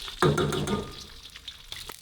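Beef frying with garlic and onion in hot oil, a sudden loud sizzle as the ingredients hit the pan, then a steady crackling hiss that slowly fades, with a few light clinks near the end.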